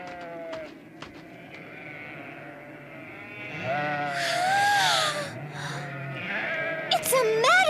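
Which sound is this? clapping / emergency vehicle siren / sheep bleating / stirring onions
sheep bleating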